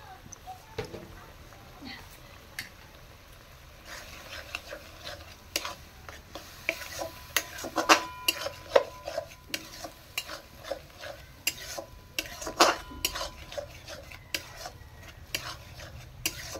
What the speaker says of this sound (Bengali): ভালো করে কষতে থাকবো।